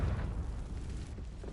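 A Confringo blasting curse from Hogwarts Legacy explodes with a deep, sustained rumbling boom that stays loud and low across the whole short moment.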